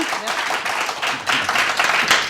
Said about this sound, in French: Petit applaudissement du public, ça fait toujours du bien.